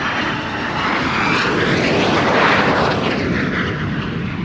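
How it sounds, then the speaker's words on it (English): An F-22 fighter jet performing a flying display at the Royal International Air Tattoo air show, a loud, broad engine roar that swells and then eases as it passes, heard alone without voices. "that F-22. Wonderful aircraft, and to do the maneuvers that it was just doing, absolutely incredible."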